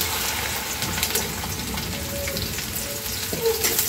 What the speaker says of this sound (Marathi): तेल गरम झालंय, सगळी भेंडी आपण याच्यामध्ये टाकून घेऊया